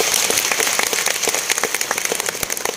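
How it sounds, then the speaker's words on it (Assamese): An audience at an event at IIT Guwahati claps together, a dense, steady patter of many hands ringing out close by and continuously for a few seconds. "সকলোৱে হাত চাপৰিৰ অভিবাদন জনাব"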